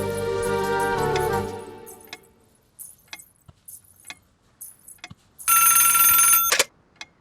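In a Hindi-dubbed Tamil film scene, a telephone bell rings in one loud, bright burst of about a second near the end, after fading music and scattered quiet clicks and knocks.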